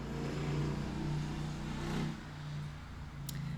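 A motorcycle engine drones steadily outdoors, swelling as it passes close by and then easing off, with the low hum continuing faintly afterward.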